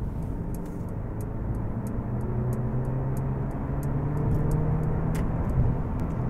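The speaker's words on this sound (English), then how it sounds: "if you need to accelerate pretty quickly, all you do is change dynamic select to either Sport or Sport Plus" A mild hybrid car accelerating quickly in Sport mode, heard from inside as a steady engine drone with rising tones, overlaid by faint regular ticking clicks.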